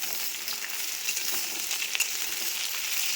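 Onion fries in a pan with a close, continuous crackling sizzle, steady and bright, with small spits and pops scattered through it.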